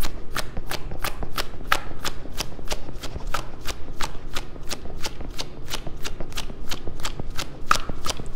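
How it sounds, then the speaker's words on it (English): A deck of tarot cards is reshuffled close up, with a rapid, steady run of crisp riffling snaps and flutters continuing unbroken throughout. "All right, let's go ahead and reshuffle."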